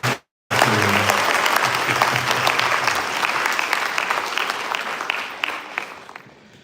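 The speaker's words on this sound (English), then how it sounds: "So another big round of applause, please," An audience at a Kuchipudi dance debut applauds the teacher, a sustained burst of clapping that starts after a brief pause, holds steady and gradually thins out toward the end.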